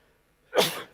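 A single sudden, loud sneeze bursts out after near silence at a chess tournament, then fades quickly.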